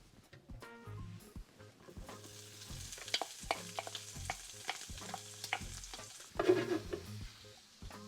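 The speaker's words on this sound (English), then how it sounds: "Okay, I'm gonna fry these up." Food fries in hot oil, a crackling sizzle with spattering pops and intermittent utensil clatter and stirring noises nearby, no talking.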